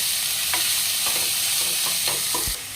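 Finely chopped onion frying in a pan, with a steady bright sizzle throughout and several distinct scraping stirs of a spoon at irregular intervals, close and fairly loud, no talking.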